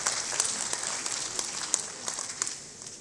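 Steady, fairly faint applause from a seated audience at a Nigerian broadcasters' gathering, a soft continuous patter of many hands with a few sharper claps standing out.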